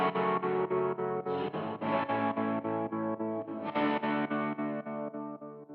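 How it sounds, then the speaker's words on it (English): Electric guitar played through a Line 6 James Tyler Variax with studio-mode reverb and effects: bright sustained chords pulsing in a fast, even rhythm, loud and alone. "put the reverb in the studio mode"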